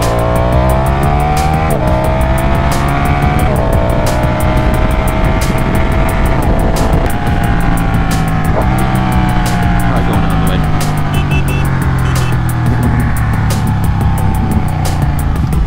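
Steady engine roar from a motorcycle riding along a road, loud and close throughout, with rising and falling revs as the rider shifts gears.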